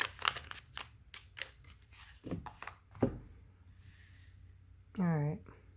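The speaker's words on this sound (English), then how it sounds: "Do one more shuffle." Quick papery flicks and riffles of tarot cards being shuffled close by, in short uneven bursts, with a brief voice near the end.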